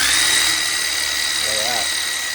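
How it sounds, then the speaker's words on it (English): An impact screwdriver drives an offset extension wrench adapter, giving a steady high-pitched motor whine with a faint buzzing vibration throughout, close and continuous. "I'm going to attach this to my impact screwdriver and then give it a go."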